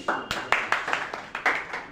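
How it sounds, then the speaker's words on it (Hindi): Audience in a quiz class clapping, a short burst of about ten hand claps in an uneven rhythm, close and fairly loud with no voices. "इसके लिए आप सब ताली बजाइए"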